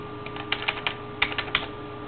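Password being typed on a computer keyboard, a short run of about a dozen close, crisp key clicks in an uneven rhythm, with no talking.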